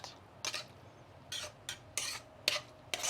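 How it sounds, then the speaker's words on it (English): Gluten-free noodles in peanut sauce being tossed and stirred in a pan, heard as five or six sharp, close scraping clatters of a utensil against cookware, spaced about half a second apart, with quiet gaps between them. "So I will toss this in here, my noodles, and I guess flip through it."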